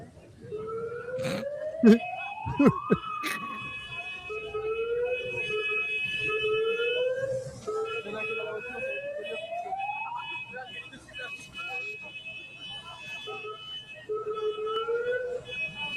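Several police sirens wail and rise in overlapping tones nearby, with a few sharp knocks and voices underneath.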